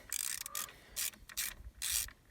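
A 5.5mm socket on a ratchet backs out ignition coil bolts on a 2002 Pontiac Grand Prix 3800 V6, short bursts of rapid clicking pawl ratcheting repeated several times, close and fairly quiet, no talk.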